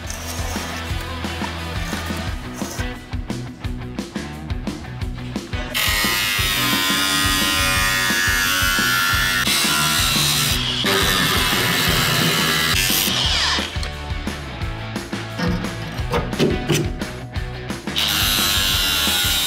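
A power tool trims steel pieces for custom rock sliders with a loud, steady grinding whine that runs in long stretches, briefly stopping and restarting, with no talking.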